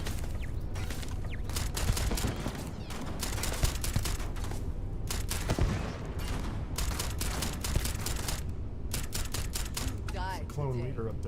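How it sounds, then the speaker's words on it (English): Turrets firing in the space shooter game Starfield, rapid rattling bursts of gunfire in long dense volleys with brief pauses, continuous and fairly close, mixed with a player talking over the shooting. "There's a lot of turrets up there. Oh, they're definitely shooting."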